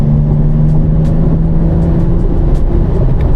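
A race car on track, a GT4-class racer, holding a steady engine drone with a sustained tone, loud and close from inside the car, with no voices.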